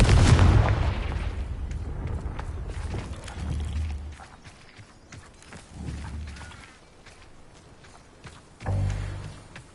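Confringo spell blasts from the video game Hogwarts Legacy land as a heavy booming explosion at the start, followed by softer crackling debris and a couple more low thuds, fairly loud and with no talk.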